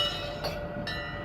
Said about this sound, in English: we probably ought to hear them maybe honk the horn and ring the bell